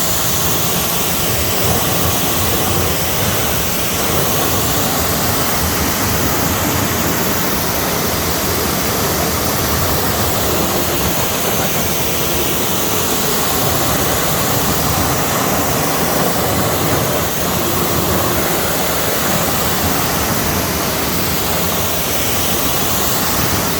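A hose sprays water at full force to pre-rinse a dirty black car wheel, a loud, steady broadband hiss of close spray that runs unbroken for the whole stretch without talk.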